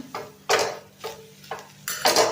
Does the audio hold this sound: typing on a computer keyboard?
no